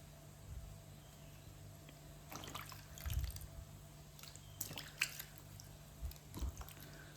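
Wild alambi mushrooms are rinsed of soil in water, with quiet intermittent splashes, drips and squishy handling sounds close by in a hushed setting.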